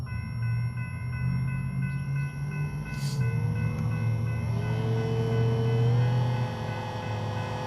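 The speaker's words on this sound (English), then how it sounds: "Oh no, that's not even the same train." A freight train rolls past on the line at Friona, Texas, a steady low rumble of wagons with a rising tonal whine partway through, heard alone with no talk.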